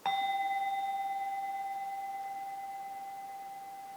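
A single bell is struck once with a clean attack, then rings on as a pure sustained tone that fades slowly over several seconds in a quiet room.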